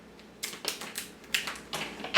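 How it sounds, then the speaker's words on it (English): Scissors snip through the legs of a blue crab while it is being cleaned, giving four or five short, crisp crunching cuts spaced irregularly, close and moderately loud over a quiet background. "I'll get a pair of scissors. I'll cut my legs off on both sides."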